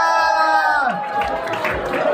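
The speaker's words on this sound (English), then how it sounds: "Now let's start clapping and going crazy" A festival audience at the London Coffee Festival claps and cheers in a lively burst, with crowd noise and babble swelling around a loud announcer's voice that carries over the top.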